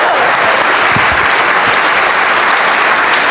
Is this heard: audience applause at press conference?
yes